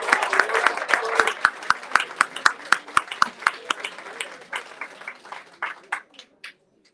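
A room of people at a press conference applauds with crisp, close hand claps that start brisk and full, then thin out to scattered single claps before stopping.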